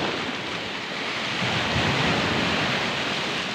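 Strong sea waves pound the shore during Typhoon Kristine, a loud, dense roar of surf and wind that swells slightly louder midway and never lets up, with no voices.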